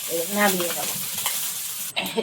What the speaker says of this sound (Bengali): এই মাছগুলো এবার ভেজে নেবো